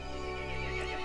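A horse in a horror video game lets out a loud, close whinny, a strained harmonic neigh lasting about a second with faint hoof clatter beneath it.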